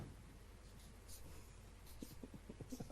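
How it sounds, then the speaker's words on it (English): Pen scratching on a playing card, soft and close, with short scribbling strokes growing busier toward the end in a quiet room. "I'm going to write it down now"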